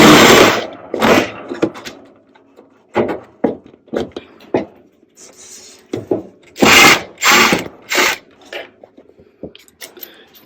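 A power screwdriver whirs in repeated short bursts of varying length while it backs screws out of a Whirlpool oven, with quiet gaps and small handling noises between the bursts.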